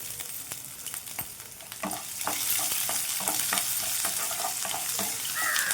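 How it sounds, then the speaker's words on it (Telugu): Curry leaves and finely chopped green chillies frying in hot oil, a dense crackling sizzle that swells louder partway through, punctuated by sharp spatula scrapes and taps, close by with no voices. "ఇందులోనే కొద్దిగా కరివేపాకు, సన్నగా కట్ చేసుకున్న ఒక 5 లాగా పచ్చిమిర్చి అండి."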